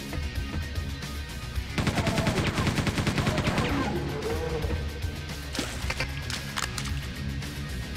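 Enemy gunfire in the video game Quake 2, a rapid rattling burst of shots amid game music and effects, followed by scattered impacts.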